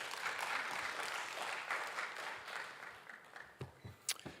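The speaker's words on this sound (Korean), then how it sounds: "박수로 우리 같이 환영하겠습니다" A church congregation claps in welcome for the pastor at a special Holy Week dawn service, a steady wash of applause that gradually thins and fades into a few scattered claps.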